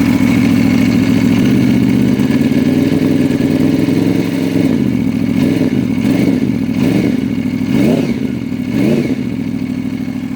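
A 2010 Aprilia RSV4 Factory motorcycle engine with a Leo Vinci exhaust idles loudly and steadily up close, then is given several short revs that rise and fall in quick succession.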